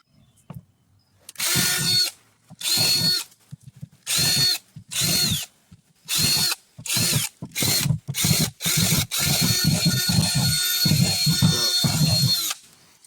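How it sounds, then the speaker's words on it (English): A cheap power drill whirs in repeated short bursts drilling small holes in a black soldier fly trap, stopping and starting, then runs continuously for several seconds near the end. "some little holes that I'm going to drill up here"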